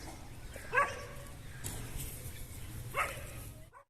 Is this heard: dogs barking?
yes